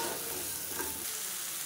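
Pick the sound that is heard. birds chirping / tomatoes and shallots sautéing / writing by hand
tomatoes and shallots sautéing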